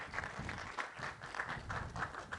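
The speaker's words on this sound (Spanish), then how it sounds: "un aplauso para ellos" Applause from an audience at a Mexican news event honoring forest firefighters, a fairly faint, steady patter of clapping with rhythmic swells throughout.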